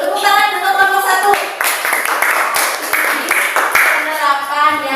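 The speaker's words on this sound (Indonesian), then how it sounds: "Tepuk tangan untuk kelompok 1." Sharp, uneven handclaps fill a classroom as children applaud a group, close and lively, with some young voices mixed in.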